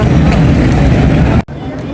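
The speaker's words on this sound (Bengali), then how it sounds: "এক ঘন্টা নৌকা ভ্রমণ করে ওপার থেকে এপারে চলে এলাম ঘাটে" Steady low engine rumble and broadband water noise of a motorboat crossing a river in the evening, continuous and close, cutting off abruptly near the end.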